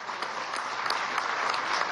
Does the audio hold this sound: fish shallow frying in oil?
no